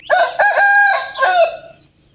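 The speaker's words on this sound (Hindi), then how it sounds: "सुबह हो गया और मुर्गों ने अजानें देना शुरू कर दी।" At dawn, a loud, close rooster crows once, a long drawn-out cock-a-doodle-doo that trails off into silence.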